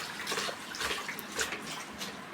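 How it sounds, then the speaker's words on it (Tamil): Amaranth greens are swished and rinsed in a vessel of water, giving close, repeated splashing and sloshing surges at a modest level, with no talk over it. "எதுக்காக இத்தனை வாட்டி தண்ணியை மாற்றி மாற்றி அலசும்"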